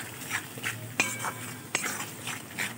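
A utensil stirs and scrapes spices with turmeric in a pan for a duck egg and coconut milk dish, giving soft repeated scraping and a couple of sharp metallic clinks against the pan.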